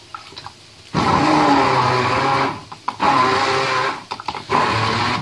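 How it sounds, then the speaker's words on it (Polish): A kitchen blender purees apricots and bananas with a little water, running loud in several bursts with brief pauses between them and no talking. "I blenderujemy nasze morele."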